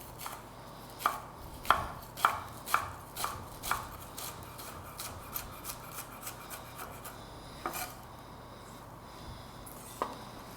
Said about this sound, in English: That way you can slice as much parsley as possible in just a few strokes of your knife.